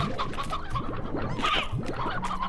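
Chickens in the farming video game Slime Rancher cluck and coo in a busy overlapping chorus, several birds close by with short repeated calls and no talk.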